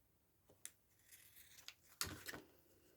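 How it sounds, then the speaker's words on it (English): Scissors trimming the top and bottom edges of a paper pocket booklet, a few quiet, sharp snips and crisp cutting strokes close by in an otherwise still room. "Then I'm just going to trim that off"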